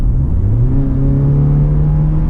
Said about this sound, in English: it's only the initial sound from the engine when I rev hard.